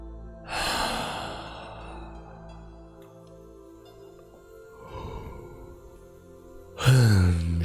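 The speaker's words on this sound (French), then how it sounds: "J'inspire, je gonfle le ventre. J'expire, je relâche tout." Deep slow breathing during guided meditation, a long audible inhale and exhale near the start, a softer breath midway, then a sharper loud breath at the end over a quiet sustained musical drone.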